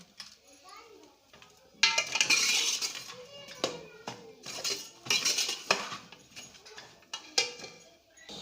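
A spoon stirring and scraping through chicken curry with potatoes in a metal pan, irregular clinks and scrapes in bursts, close and moderately loud, with someone talking softly between strokes.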